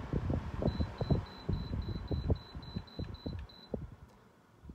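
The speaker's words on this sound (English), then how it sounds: "That you could hear the beep." A string of high electronic beeps from the control buttons of a Meaco 1056AC air circulator fan, about a dozen evenly spaced, sounding over the fan's low rumble and some thumping handling noise.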